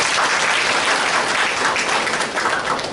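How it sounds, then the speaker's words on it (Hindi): A crowd at a spiritual talk on Gita knowledge claps for themselves, producing loud, dense, continuous applause that fills the space with no voices over it. "बहुत अच्छा, आप अपने आप के लिए ताली बजाइए,"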